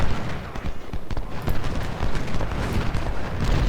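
Howitzer artillery fire during a Civil War battle in Ultimate General: Civil War, a steady rumble of distant cannon blasts and battlefield noise, fairly quiet and continuous, with no talking.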